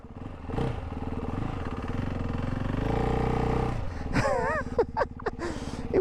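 A Ducati Hypermotard 698 Mono single-cylinder motorcycle accelerates in first gear, its engine rising into a steady loud droning roar before dropping off, followed by sharp throttle blips.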